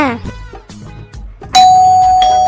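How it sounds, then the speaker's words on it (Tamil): A person talks briefly, then a loud electronic doorbell chime rings out close by and sustains to the end. "காலிங் பெல் அடிச்சுக்கிட்டே இருக்காங்கல்ல"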